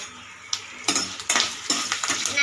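Curry leaves and dried red chillies being fried in a pan for tomato kuzhambu, a few quick metallic scrapes and clinks over a faint sizzle, close and brief.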